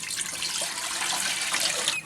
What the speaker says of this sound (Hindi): इस पतीले दे अंदर हुण पहले पानी पा रहे हैं असीं